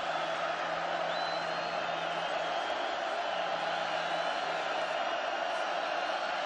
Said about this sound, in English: And the crowd gets involved,